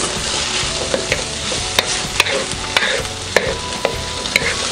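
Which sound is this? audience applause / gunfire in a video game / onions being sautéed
onions being sautéed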